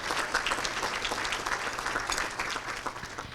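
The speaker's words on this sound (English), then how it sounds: "So let's give them a round of applause as well" A round of applause from an audience at a community housing discussion event in Grand Haven, Michigan: continuous, fairly close clapping of many hands, steady and then tapering slightly at the end.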